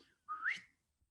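A single shepherd's whistle used to command sheepdogs at a herding demonstration: one short, clear, upward-sliding tone blown close by, with quiet before and after.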